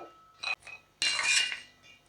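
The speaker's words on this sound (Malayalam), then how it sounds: "ബദാമിത ഇവിടെ റോസ്റ്റായി വന്നിട്ടുണ്ട് ബദാമിത കോരി മാറ്റി കൊടുക്കാം" A spoon scooping roasted almonds out of a pan: a short scrape and clink, a brief pause, then a longer metallic scraping rattle that fades.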